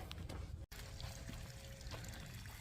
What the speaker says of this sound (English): it allows all the water to flow back that we put down in there